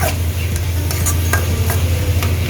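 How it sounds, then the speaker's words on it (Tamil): Onions and salt stirred in a pan, a close, steady frying hiss with a low hum and a few light scrapes of the spoon over a short stretch. "உப்பையும் சேர்த்து நல்லா இந்த மாதிரி வெங்காயத்தோடு சேர்த்து நல்லா கிண்டி விட்டுருங்க"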